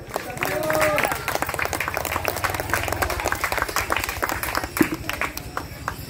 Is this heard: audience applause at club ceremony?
yes